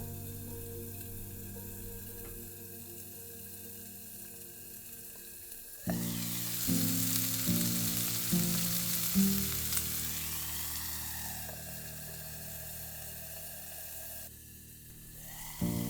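Meat sears skin-side down in a pan on a new stove inside a DIY kei-truck camper during winter car camping in the snow; a loud, steady sizzle bursts in partway through over a low hum and carries on to the end.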